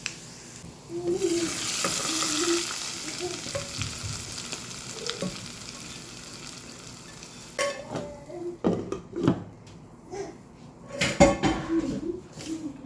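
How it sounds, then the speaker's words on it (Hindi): Onions sizzle in ghee with green chili and cumin, a continuous close frying hiss broken by utensil clinks and stirring scrapes against the pan. "मैंने इसे अच्छे से फ्राई किया है और प्याज में भगार लगा दिया है"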